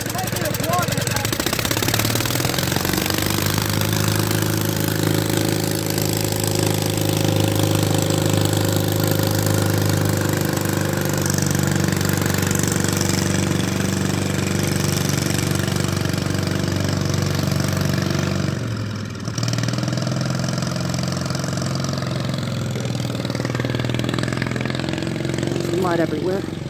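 A John Deere Gator engine runs on only one cylinder, holding a loud, steady, rough idle close by with a brief dip near the end, while people talk over it.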